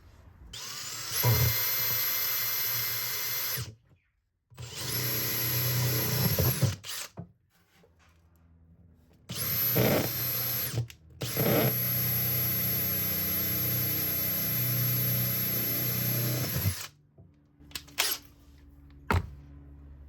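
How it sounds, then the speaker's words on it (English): Loud power drill running in several long bursts with short pauses between, close by, drilling 3/16-inch bridge pin holes in a 1969 Martin D-28 acoustic guitar, with no talking. "Next thing, we'll just drill some bridge pin holes."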